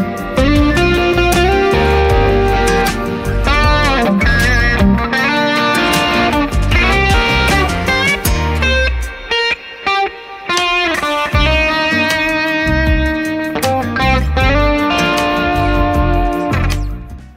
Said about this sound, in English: It's the Strymon Timeline and the Strymon Big Sky. For me, you can't have delay without reverb or vice versa.